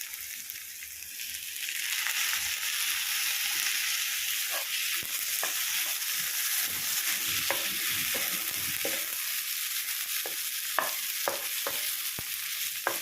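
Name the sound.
chopped tomato frying and stirred for pav bhaji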